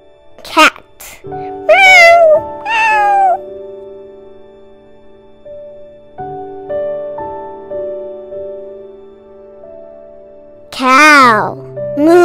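Over soft electronic toy music and bits of talk, a cat-like meow rises and falls near the end.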